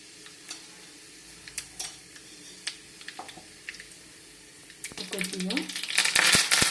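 Mustard and cumin seeds hit hot oil for a tomato mint chutney, building from scattered crackles and pops into a loud, dense sizzle over the last couple of seconds.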